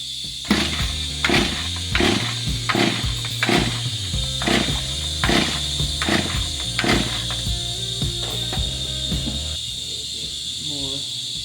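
An old chainsaw that has been sitting unused is pulled over repeatedly, about nine sharp rope-start pulls in a steady rhythm with a steady hiss beneath, the engine never catching, followed by quieter handling noises.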